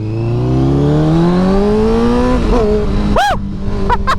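A Honda CBR1000RR sport motorcycle fitted with a Hyperflow exhaust revs hard and climbs in pitch, then gives several sharp throttle blips near the end, loud and close. A rider whoops briefly.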